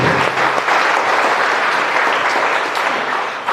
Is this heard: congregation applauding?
yes